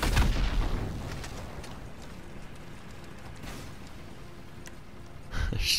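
A Panzerfaust rocket launcher fires in GTA, with a loud blast at the start that fades into lingering ambience, then a second sharp boom near the end.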